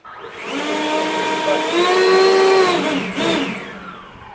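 A Ryobi RY40470 40V cordless leaf blower on turbo whines loudly, its pitch climbing as it speeds up, then briefly dipping and continuing.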